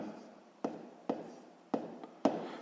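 Pen writing a math answer on paper, four or five short scratchy strokes in an uneven rhythm, close and fairly quiet, with no talk.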